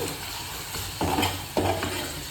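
Turmeric and chilli powder fry in hot oil in a pan for a chilli boondi curry, giving a continuous close sizzle with two sharper bursts of stirring and scraping near the end, and nobody talking.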